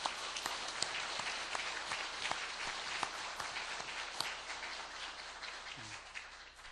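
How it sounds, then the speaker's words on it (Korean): A church congregation gives a sustained round of applause to the choir, accompanists and instrumentalists, dense clapping filling the hall at a steady level throughout. "감사의 박수, 격려의 박수 한번 드리겠습니다"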